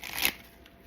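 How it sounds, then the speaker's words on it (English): A brief papery riffle of tarot cards being shuffled, crisp and close, fading into quiet room tone after a fraction of a second. "2 more shuffles and then get into it"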